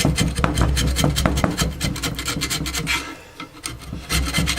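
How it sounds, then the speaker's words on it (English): A flathead screwdriver scrapes old glue and silicone debris off the metal frame of a JBL 2226H 15-inch woofer, close, loud and rasping in quick repeated strokes, with a brief pause before the scraping resumes. "You can use the flathead screwdriver to scrape it out"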